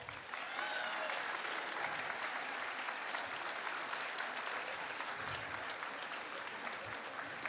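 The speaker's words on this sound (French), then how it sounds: "que l'on peut applaudir bien fort." A large audience at a free-speech conference applauds warmly for several seconds, a dense, even wash of clapping heard from a distance that stays steady throughout.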